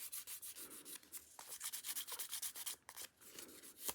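Sandpaper rubs steadily back and forth over a painted leather edge between coats of edge paint, a close, dry scratching in quick repeated strokes with brief pauses.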